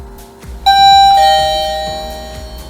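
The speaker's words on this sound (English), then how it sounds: "we'll show you here how the doorbell works" A wireless doorbell on a maglock access-control system rings with a loud, clear two-tone chime that rings out and fades, with no voices over it.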